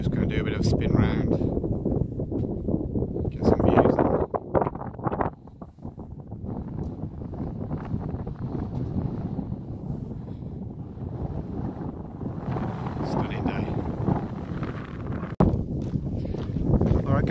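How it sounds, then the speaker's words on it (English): Strong wind buffets the microphone during a walk in the Langdale Pikes, a constant roaring rush with gusty swells throughout, while a person talks over it for much of the time. "Sorry if it's really windy, but just going to do a bit of spin round."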